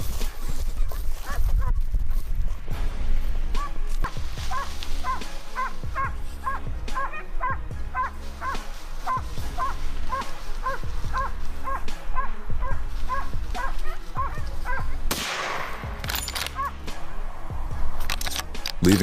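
Hunting dogs barking repeatedly during a wild boar hunt in the forest, a dense, steady run of barks under a busy background with a brief louder burst near the end.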